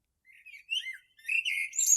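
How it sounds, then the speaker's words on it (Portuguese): A blackbird whistles among the branches, a short run of clear, fluting phrases that rise and fall, close and fairly soft, heard alone without talk. "Pela ramaria andava um melro a assobiar."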